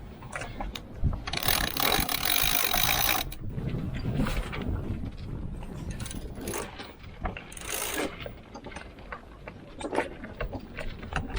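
A winch ratchet clicks rapidly as the mainsail halyard is hauled up on a sailboat facing into the wind, bursts of loud clicking alternating with rope and deck handling noises.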